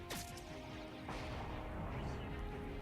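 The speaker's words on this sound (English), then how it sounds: "We'll hit you with a portal cannon." A sharp synthetic portal cannon blast in Halcyon 6: Starbase Commander opens over a busy layered game soundscape, followed moments later by a second heavy impact, with constant background effects throughout.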